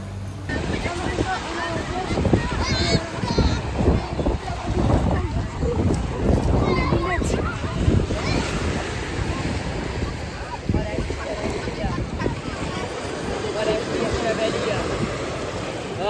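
On a beach in northern Morocco, surf washes in steadily under constant wind buffeting the microphone, a loud continuous roar through the whole stretch.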